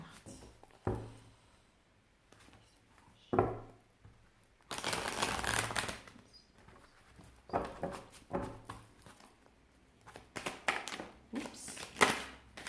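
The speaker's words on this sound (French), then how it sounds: "il faut que je les fasse tourner ces cartes" Oracle cards being shuffled by hand, close and quiet: several bursts of rapid riffling and flicking separated by brief pauses.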